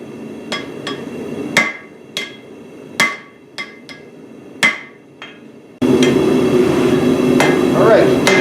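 A hammer strikes hot metal on an anvil in about a dozen sharp, ringing blows spaced irregularly, close and loud, followed by a steady roaring hiss of a forge or grinder running alone.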